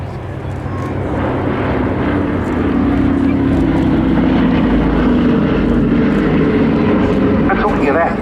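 Boeing B-17G Flying Fortress Sally B at the Cosford airshow, its piston engines giving a loud, steady droning roar that builds slightly and holds, with a faint voice underneath.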